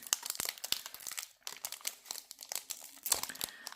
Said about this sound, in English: Let's go ahead and get these packs out of the way and rip the first one